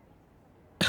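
A single sudden cough bursts out near the end after near silence, short, loud and close.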